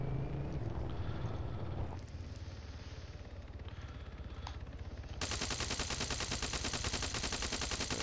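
Video game gunfire, with bursts of rapid automatic shots, a quieter stretch of scattered sharp reports, then a dense sustained burst of fire that ends the clip. No talking is heard.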